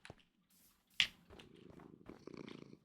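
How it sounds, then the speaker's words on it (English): A cat purrs softly in a video game, a faint, low rumbling purr that builds gradually after a few brief clicks and a short bright chirp. "Cat starts to purr."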